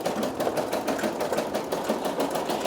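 A Brother SE 625 embroidery machine stitches out an Igor patch with a fast, steady mechanical chatter of needle strokes, close and continuous with no voices.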